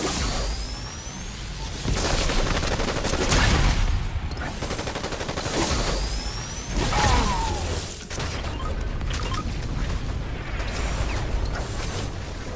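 Rapid bursts of gunfire in the video game Fortnite crackle continuously, with overlapping shots and sharp pops over a dense, noisy background, loud and sustained throughout.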